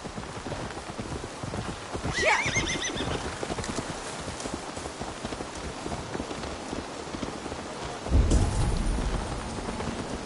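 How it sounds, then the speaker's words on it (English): A horse in Assassin's Creed Valhalla clip-clops along with hoof beats under steady rain and rolling thunder, moderately close in a stormy game scene, no talking. "Let's return the horse."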